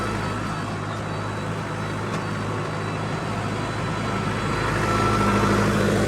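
A Sonalika tractor engine fitted with a turbo upgrade runs steadily at constant revs, a loud, continuous low rumble with a droning hum that grows slightly louder toward the end, with no talking.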